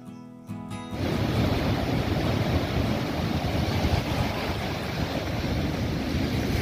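Sea waves roll onto Tithal beach near a temple, a steady, full roar of surf mixed with wind buffeting the microphone. It starts quieter and swells to a constant loud wash after the first second.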